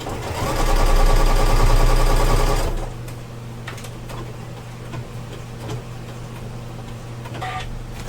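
A sewing machine stitches with white thread down the side of a wire frame bag, a loud rapid mechanical whir for about two seconds, then stopping, leaving faint handling clicks and rustles.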